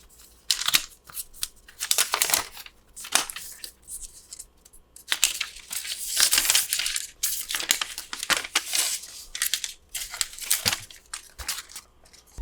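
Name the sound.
peeling protective film off AirPods Max headphones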